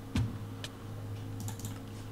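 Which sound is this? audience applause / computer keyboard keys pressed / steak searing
computer keyboard keys pressed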